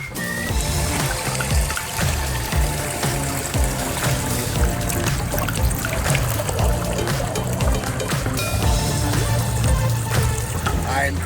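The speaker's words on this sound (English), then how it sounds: "A simple water feature could go anywhere." A simple garden water feature at a home pond in Benton Harbor, Michigan, with water trickling and splashing continuously at close range, a busy, bright wash of flowing water throughout with no one speaking.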